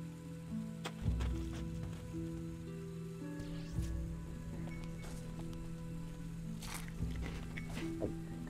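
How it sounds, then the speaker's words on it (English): Rain falls in the video game Eschalon Book 2 as a soft, steady patter, with a few sharper taps and footstep-like thumps and a low background tone. "Sick of rain."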